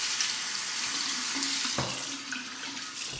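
A tap runs steadily into a sink as a face is rinsed after a shave, a continuous close splashing rush of water that stays alone throughout.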